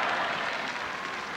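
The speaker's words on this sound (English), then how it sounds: "the crowd, meanwhile, is starting to get into this match, and a lot of cheers out there for Steffi Graf" A tennis crowd at the 1999 Roland Garros final cheers and applauds for Steffi Graf, a dense, even wash of distant noise with no break.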